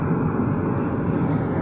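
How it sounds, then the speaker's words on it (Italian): A steady, low airplane engine drone fills the whole stretch, constant and fairly loud, with no talking over it. "Questo è un aereo?"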